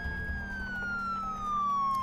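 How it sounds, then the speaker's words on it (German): Police car siren in the driving game Enforcer: Police Crime Action, a faint wailing tone sliding steadily downward in pitch over a low engine hum, with no talk. "Jetzt soll ich doch mal die Sirene anmachen."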